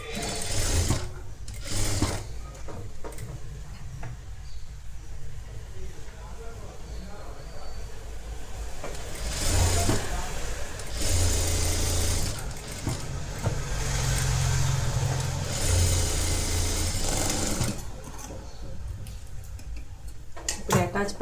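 A sewing machine stitches straight pieces onto a cross-neck designer blouse, running in repeated bursts of rapid close mechanical chatter separated by short pauses, with a voice talking in between.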